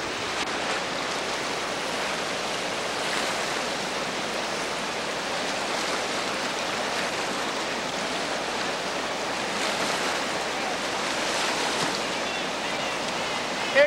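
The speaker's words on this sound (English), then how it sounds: "Big waves out there today." Rushing whitewater of the New River Gorge roars continuously, a broad, steady churn of river rapids close by, with little variation throughout.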